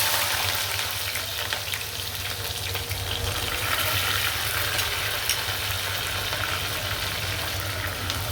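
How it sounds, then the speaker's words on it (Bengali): Onions frying in a pan for a chicken kofta curry, a steady close sizzle with a crackling hiss running evenly throughout and no one speaking. "আমি পেঁয়াজটি আগে ভালো করে ভেজে নেব"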